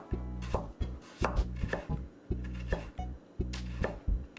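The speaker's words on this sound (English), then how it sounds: "Next, I'm gonna julienne a carrot into probably 10 centimeter lengths." A knife julienning a carrot on a cutting board makes sharp, regular chops in quick bursts of two or three, close and clear with no talking.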